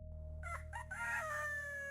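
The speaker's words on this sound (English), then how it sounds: "you hear a rooster crowing" A rooster crows once at a distance, a short broken call followed by a drawn-out note, faint and alone against a steady low hum.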